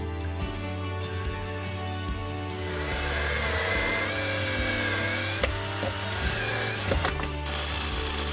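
A ratchet screwdriver fastens screws into a table aboard a sailing boat, its pawl clicking in quick close bursts over a steady low hum, with no talk.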